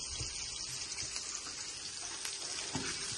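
Onions frying in a pan while rohu fish biran is being made, heard as a quiet, steady low sizzle with faint crackles and no speech.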